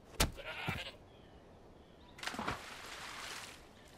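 A sheep in the video game Far Cry 5 gives two short bleats about two seconds apart, nearby and moderately loud over a quiet background, with no talking.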